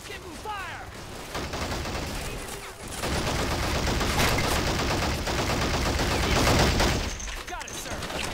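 Gunfire in the war strategy game Men of War Assault Squad: dense, sustained rattling of rifles and machine guns that rises after the first few seconds, with voices heard under it.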